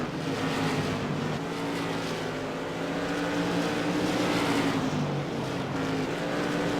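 Modified race cars lap Oxford Plains Speedway in a CAN-AM Tour Modified Series race, a continuous roaring engine drone with rising and falling pitches as cars pass, steady and fairly distant.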